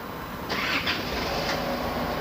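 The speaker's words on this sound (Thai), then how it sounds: "เห็นไหมครับ เครื่องยนต์ติดนะ" An Isuzu D-Max diesel pickup engine turns over and settles into a steady, close rumble, with a brief rise in noise near the start.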